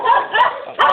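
Dogs bark in three short bursts spaced across a second, fairly close and loud, with a few higher yips mixed in.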